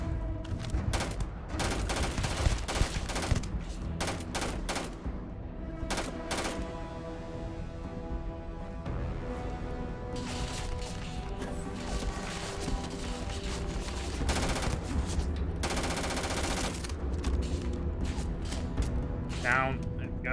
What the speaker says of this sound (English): I guess we're under fire then